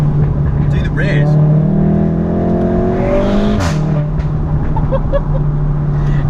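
A Volkswagen Golf R with an Akrapovic exhaust revs hard and close, its engine note climbing in rising sweeps before a sharp crack near the middle, then settling into a steady drone, with voices faintly underneath.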